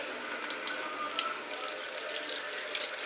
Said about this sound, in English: give your potatoes a quick wash